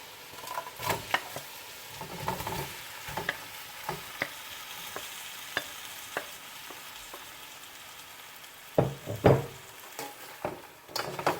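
Shrimp cooking in a frying pan for a Jamaican pepper shrimp dish, heard as a soft, low sizzle under scattered stirring clicks and scrapes, with a few louder knocks near the end.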